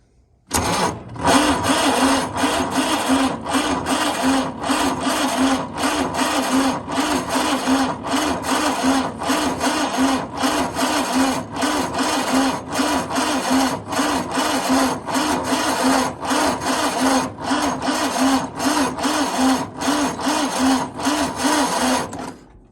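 A diesel engine is cranked by its starter in freezing cold at quarter throttle, a loud, rhythmic, labored churning that pulses steadily for about twenty seconds without catching, then stops.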